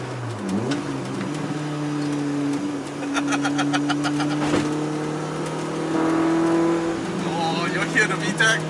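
Honda CRX engine with VTEC hums steadily and rises in pitch as the revs climb, a sustained mid-toned drone heard from inside the car, with someone talking over it.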